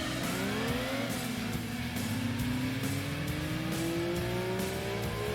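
A Nissan R30 race car in Gran Turismo 2 revs hard, the engine note climbing steadily across gear pulls with a brief dip between shifts, loud and continuous with no talk over it.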